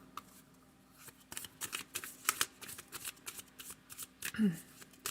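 Surrender oracle cards are shuffled close up in a quick series of crisp riffling flicks and slaps, irregular in rhythm, with no talk over them.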